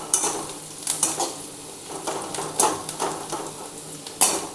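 Onions fry in a pan, giving a soft sizzle broken by intermittent stirring clinks and scrapes of a utensil against the pan, close and moderately quiet.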